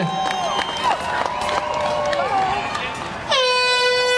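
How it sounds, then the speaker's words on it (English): Crowd noise and cheering from a big outdoor gathering at the start of a running race, then a loud, sustained air horn blast cuts in near the end. "Listen for the sound of the air horn."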